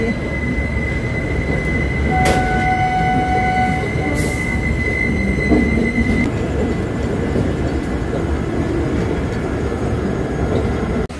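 A passenger train slowing to a stop near Renigunta, with a loud continuous rumble of rolling wheels, high brake squeals that ring out and fade, and brief sharp metallic bursts, heard from on board.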